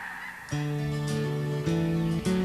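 Geese honk in a loud chorus as a flock passes overhead in farmland country near Williams and Colusa, the calls stacking into several sustained, overlapping honks with brief breaks between bursts.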